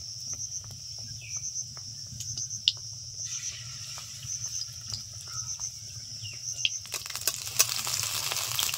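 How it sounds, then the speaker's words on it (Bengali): Raw potato chops fry in hot oil with a steady, high-pitched hiss and scattered light pops, building to a denser crackle near the end. "মিডিয়াম আছে আস্তে আস্তে এই কাঁচা আলুর চপগুলো ভেজে নিতে হবে"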